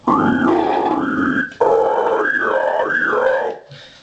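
A metal vocalist performs guttural screams, close and loud. The voice gives several long, deep growls that squeal and warble, broken by a short pause.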